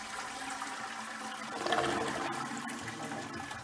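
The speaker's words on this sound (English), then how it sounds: "Flushing the toilet." A toilet with a curved cistern flushes nearby, starting with a rushing surge of water that swells then settles into a steady gurgling drain and refill.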